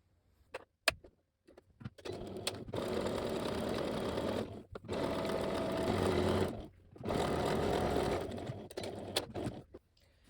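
A sewing machine stitches the side seam of a sleeveless kimono, running in three sustained bursts of fast, steady whirring, close and clear, separated by short pauses with light clicks and handling of fabric.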